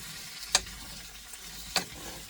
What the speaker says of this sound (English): mix it all up like this here, so that way those potatoes can get all that good flavor from the bacon